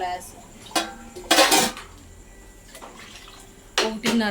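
Water splashes into a pan in a few bursts amid clanking of cookware as about one and a half glasses are poured in for Maggi noodles, with a voice speaking in between.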